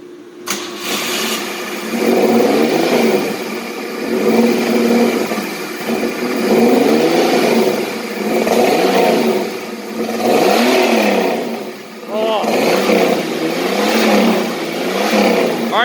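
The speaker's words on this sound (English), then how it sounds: "rev it a little bit." A Pontiac Fiero engine under restoration is revved repeatedly while parked. Loud, close throttle blips swell and fall back about half a dozen times in a steady rhythm over a rough idle.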